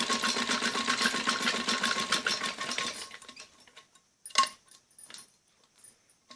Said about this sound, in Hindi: मशीन को 2 बार ऐसे आगे पीछे करके सिलाई लगानी होती है ताकि ये निकल ना जाए धागे